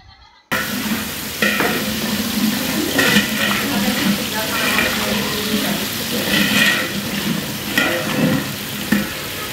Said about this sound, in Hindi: टमाटरों को नरम होने तक फ्राई करेंगे।